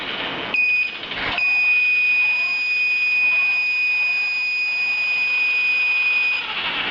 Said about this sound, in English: So buzzer is going to give you the indication of your wrong movement of your robot from the tracker.